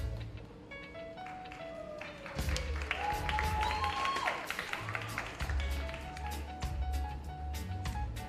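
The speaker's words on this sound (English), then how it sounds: "Keep that applause going" An audience at a performing arts awards ceremony applauds a nominated school. The clapping builds after a quieter opening, with sharp individual claps standing out over a broad crowd wash and some tonal sounds in the background.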